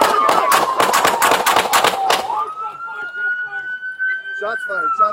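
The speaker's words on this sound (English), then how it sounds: "Shots fired by police." Gunshots fired by police during an Aurora police shooting, a rapid burst of loud, sharp cracks at close range over a wailing siren that carries on after the shots stop.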